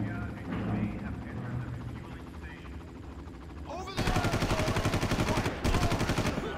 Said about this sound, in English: That was very bad shooting.